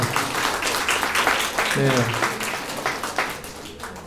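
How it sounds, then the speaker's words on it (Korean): A church congregation claps for the children during a Korean service. Fairly soft, diffuse applause runs throughout while a voice speaks over it. "우리 집사님들, 우리 장로님들 박수 한번 주세요."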